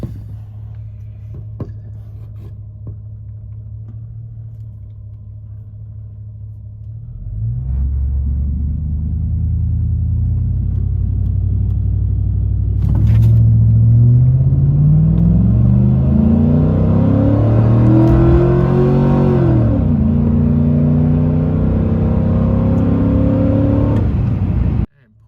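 A Chevrolet Silverado pickup fitted with an Edge tuner and an aftermarket air intake idles, then launches hard in a 0 to 60 run, its engine roaring loudly and climbing through the gears for about seventeen seconds before cutting off abruptly.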